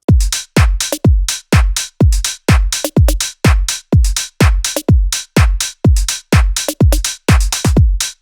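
House beat programmed in Ableton Live, a steady four-on-the-floor kick with layered extra percussion hits and bright hi-hats, loud and tightly repeating with no voices.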